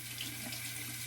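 Warm tap water runs steadily from a faucet into a sink while a razor is rinsed clean of hair and debris, a continuous close splashing hiss throughout.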